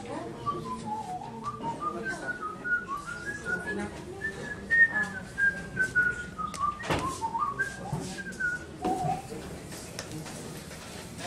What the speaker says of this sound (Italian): sto facendo pratica per imparare a fischiare con questo pezzo